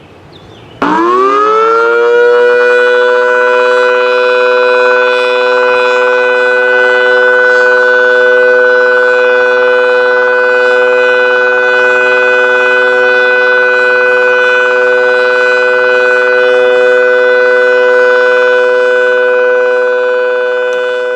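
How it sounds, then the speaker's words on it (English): Tornado warning sirens in Columbiana County, Ohio rise quickly to a loud, sustained wailing tone that holds steady for about twenty seconds, heard alone. "I was lucky enough to be able to find actual tornado siren recordings from Columbiana County"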